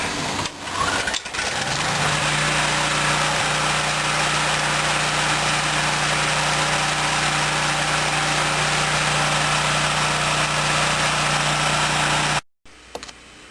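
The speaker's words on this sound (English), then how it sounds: "The generators out there running." A portable generator set up to backfeed a house runs outside with a steady, loud mechanical drone and hum that continues unbroken, then cuts off abruptly near the end.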